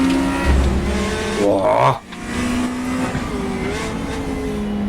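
A race car in a racing video game with no driving aids, played on a Fanatec Clubsport RS setup: a loud continuous engine drone with rising revs and tire squeal, a sudden dip, then steady engine hum, with a brief exclamation.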